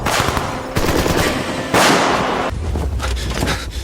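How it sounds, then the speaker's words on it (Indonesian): Loud, continuous rapid gunfire in an action film battle, with bursts of shots rattling and booming without pause, dense and close. "beberapa pasukan khusus yang dipimpin oleh Jintai harus mati tertembak oleh sniper yang telah mengetahui keberadaan mereka di sana"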